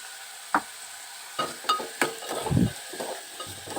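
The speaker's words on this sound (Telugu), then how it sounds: "గార్లిక్ కూడా వేసేస్తున్నాను ఇందులోనే." Garlic dropped into a pan of frying onions, with a few sharp clinks and scrapes of stirring over a soft background sizzle, close and moderately quiet.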